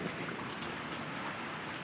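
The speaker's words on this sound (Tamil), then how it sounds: "எங்கள் ஊர்லலாம் நல்லா மழை பெஞ்சிட்ருக்கு பாருங்க" Heavy rain pours onto a street in a steady, dense hiss of countless drops, loud and close without pause and with no voices.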